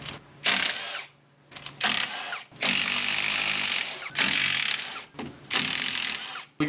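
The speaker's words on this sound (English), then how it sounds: "Now we can take our 12mm and undo those brake line brackets to the housing." A 12mm power ratchet undoes brake line brackets on an axle housing, several loud whirring bursts separated by short pauses, close up and alone.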